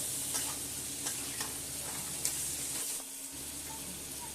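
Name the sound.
sautéing spicy crab curry with salt in pan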